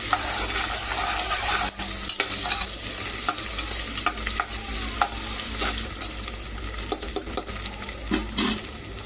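Marinated chicken for yakhni pulao fries in a pan, giving a steady sizzle with scattered scraping clicks from stirring, close and fairly loud, with no one talking.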